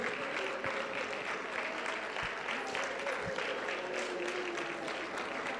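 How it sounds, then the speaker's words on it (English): A church congregation claps continuously during a fasting prayer service, a steady dense wash of hands beating under loud chanted prayer and voices throughout. "Clap your hands and command the blood"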